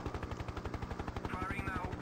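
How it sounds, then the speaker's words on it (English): Rapid turret gun fire from a helicopter in the 1996 combat game Hind, a loud continuous burst of evenly spaced shots that repeats without a break under a steady rotor drone. "Navigate turret gun out, firing now."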